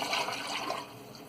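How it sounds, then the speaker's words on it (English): Water poured from a bowl into a pot for Nigerian jollof rice, a short splashing gush that tapers off, close and fairly quiet. "So I'm going to add the water."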